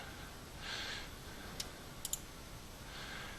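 Soft mouse clicks while drawing walls in 3ds Max: three sharp clicks in the middle, the last two close together, against a faint hiss and gentle breathing-like swells.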